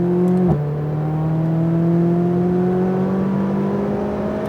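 McLaren 570 accelerating on throttle, a steady rising engine whine with clear harmonic tones climbing in pitch after a brief shift-like blip, heard from inside the car with no talk.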